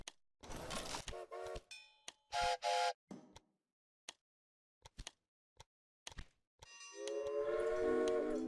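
Trains run in the video game Railway Empire, with whistles and horn blasts sounding in short separated bursts among scattered clicks, ending in a longer sustained horn tone, no talking.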